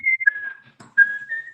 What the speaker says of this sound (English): please whistle the Andy Griffith Show theme song